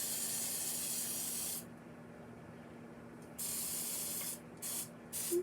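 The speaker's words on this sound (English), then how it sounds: "I got my kitchen spritzer, so I'm just going to spray and each of the little holes." A kitchen spritzer sprays oil into the cups of an egg bite mold in a few close, loud bursts of hiss with brief pauses between them.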